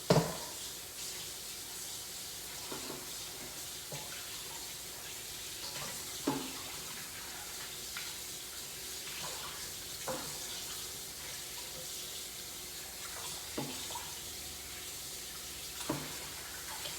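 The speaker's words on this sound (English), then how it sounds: "So let's rinse our wings off." Tap water runs steadily over chicken wings in a sink, a continuous broadband hiss with occasional splashes and knocks as the wings are moved under the stream.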